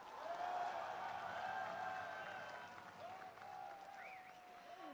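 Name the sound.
audience applause after a welcome speech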